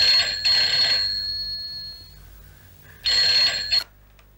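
An electronic phone ringtone trills in two bursts separated by a pause, fairly loud and close, with no talking.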